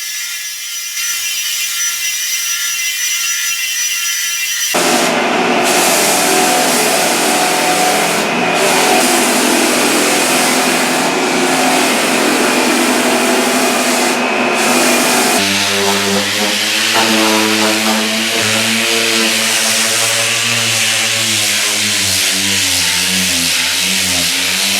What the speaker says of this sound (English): we're going to come in here with a finer grit paper, and we're going to go over the entire area a second time